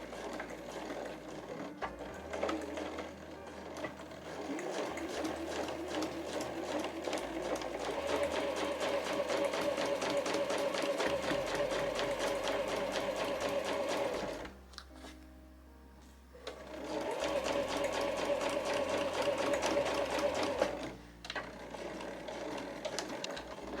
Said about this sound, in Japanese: ポケットの下側から縫っていきます。